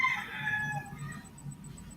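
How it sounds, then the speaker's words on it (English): Roosters crowing in the Philippines, a drawn-out crow rising and fading at moderate distance amid low background noise and faint rhythmic chirping. "Fuck, Barry, what's the go with the Roosters, man?"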